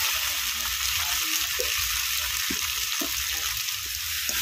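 Mete potato curry with ginger garlic paste and turmeric sautéing in a pan, a steady loud sizzle with occasional scraping stirs of a spatula underneath.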